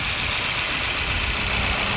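A Honda S2000 Type S (AP2) with many ASM aftermarket parts and about 36,900 km idles steadily, a constant mid-low engine hum with no revving, heard alone at close range.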